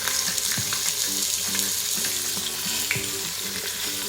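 Pieces of pork pata fry in oil, a steady close sizzle with crackling pops and a few faint clinks of a utensil, continuous throughout with no talking.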